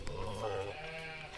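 Sheep bleating on a farm, a single drawn-out harmonic bleat up close and fairly loud, with livestock noise around it and no speech.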